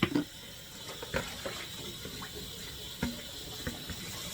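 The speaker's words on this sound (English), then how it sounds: "And I'm going to fill the canner with some water." Tap water runs into a canning pot, a soft, steady splashing fill at low level, with a few small knocks and clatters over the flow.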